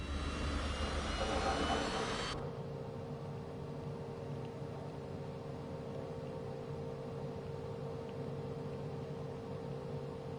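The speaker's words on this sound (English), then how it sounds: "So we was getting ready to take off." An aircraft in Microsoft Flight Simulator 2024 on PS5 roars loudly for two seconds, then settles into a steady, quieter engine drone with a persistent tonal hum.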